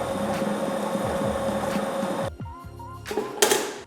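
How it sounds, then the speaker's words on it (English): An electric meat grinder mincing meat for Turkish shish meatball kebab hums and churns steadily, then its motor changes and winds down before a final short burst. "Minced meat is processed in the machine once and this will be enough"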